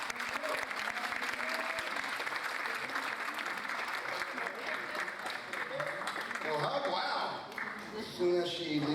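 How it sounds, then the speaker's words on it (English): An evening audience gives a guest speaker a warm round of steady applause filling the room, which fades near the end as a voice begins talking. "with a big round of applause for our guest speaker tonight"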